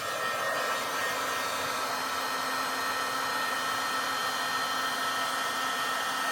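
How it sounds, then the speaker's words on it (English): A heat embossing tool runs with a steady, loud blowing whir and faint hum, unbroken from start to finish with no other sounds. "So I'm going to turn on my tool, let it heat up a little bit"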